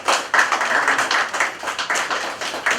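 Audience clapping at a press conference in Washington, D.C., a fairly dense, even patter of hands without talk over it, sustained for a few seconds.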